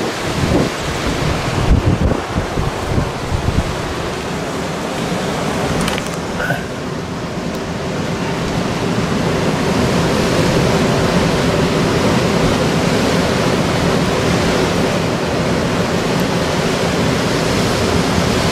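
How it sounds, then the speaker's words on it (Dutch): Strong storm wind from Storm Eunice blowing through 's-Heerenberg, a loud, continuous roaring rush with heavy buffeting against the microphone that grows steadier and stronger toward the end, with no talking. "De wind is echt al krachtig."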